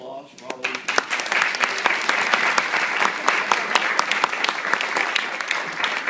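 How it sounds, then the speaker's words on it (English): An audience at a Chattanooga city hall meeting breaks into applause, starting softly then swelling into steady, close clapping with distinct individual claps that continues evenly to the end. "If I could ask for a round of applause for all of you."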